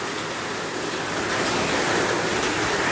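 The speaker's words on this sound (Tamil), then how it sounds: "பாருங்க எவ்வளோ மழை பெய்யுது பாருங்க." Heavy rain pours steadily during a downpour, with a dense continuous wash of hiss and splashing water, probably on a street that is flooding. The sound stays at an even, close, loud level with no voices.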